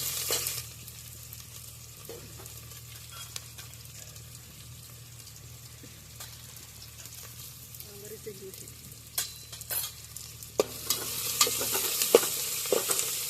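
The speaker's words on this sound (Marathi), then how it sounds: "चांगला हलवून भाजला." Turmeric being stirred and roasted in a pan while it sizzles steadily at close range, with occasional sharp scrapes of a utensil and the sizzling growing louder toward the end; no one speaks.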